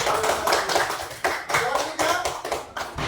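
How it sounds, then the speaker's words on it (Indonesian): A classroom of students applauds together, a steady burst of hand clapping with rhythmic swells lasting several seconds, fairly close and dense, with no talk over it. "Berikan aplaus untuk"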